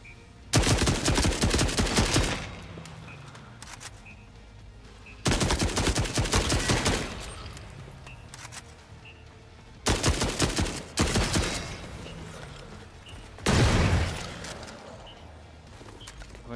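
Heavy automatic gunfire from The Forever Winter video game, four long sustained bursts of rapid shots separated by brief lulls of lower rumbling combat noise, loud and close.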